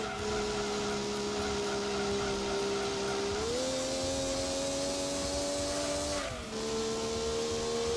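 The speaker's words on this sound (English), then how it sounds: "Come on, Civic. Redlining it." A Honda Civic engine in Gran Turismo 2 holds a steady high-pitched whine at redline, stepping up in pitch around the midpoint and dipping briefly near the end as it shifts, loud and continuous with no talking.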